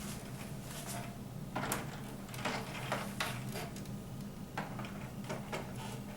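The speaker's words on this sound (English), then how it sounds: "now I put the top back on." A plastic top cover is fitted back onto a Janome MB4 sewing machine, giving several scattered clicks, taps and soft knocks close by over a low steady hum.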